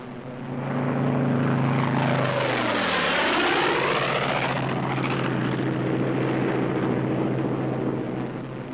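A WWII P-47 Thunderbolt fighter roars loudly and close as it peels off from formation, its propeller engine pitch sweeping down in a clear Doppler shift before settling into a steady drone, with no speech.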